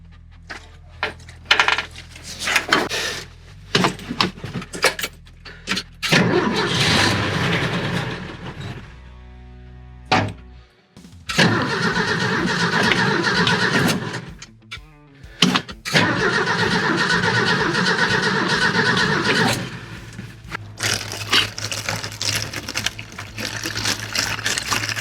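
Ford Bronco with electrical faults attempting to start: repeated bursts of cranking and engine noise, loud and close, broken by short pauses, with the engine catching and running unevenly in stretches.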